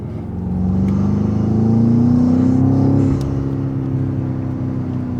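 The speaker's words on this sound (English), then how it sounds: "open up the valves because you can hear the rumble in the V8" A deep V8 engine rumble close by from a BMW X5M with exhaust valves open, idling and then revving gently higher before settling back to a steady throaty drone.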